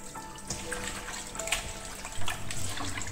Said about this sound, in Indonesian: Nah kemudian dibilas sampai benar-benar bersih.